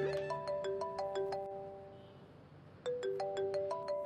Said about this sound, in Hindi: तुम्हारी दादी का फोन आ रहा है